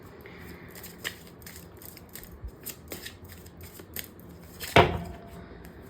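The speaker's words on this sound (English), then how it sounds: "I'm going to be pulling out 2 cards from the Romance Angels Oracle" Oracle cards from a Romance Angels deck being shuffled and drawn, with soft papery flicks and slides scattered through a quiet stretch and one sharper, louder card snap near the end.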